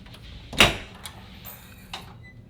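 A bathroom door in a cruise ship suite cabin opens with one sharp close clunk, followed by a couple of faint softer knocks in a quiet room.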